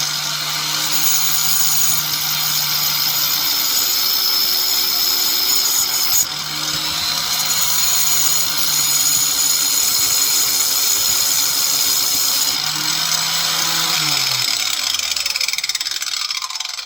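A bench grinder sharpening a tungsten electrode runs with a steady, loud high-pitched whine and grinding rasp, then spins down gradually near the end.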